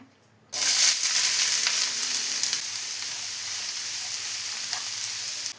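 Chopped onions hit hot coconut oil in a pan and burst into a loud, steady sizzle after a brief quiet start, holding a dense hiss throughout with no voices.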